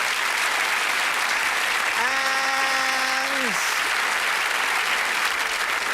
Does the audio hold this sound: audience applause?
yes